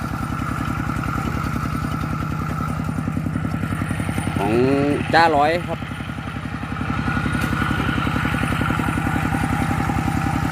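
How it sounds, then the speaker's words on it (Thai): A small single-cylinder engine of a two-wheel walking tractor, rated 9.5 to 11 horsepower, chugs steadily at a fast, even beat, close and continuous, while someone briefly speaks over it. "รถไถหน้าเดินตามนะครับ"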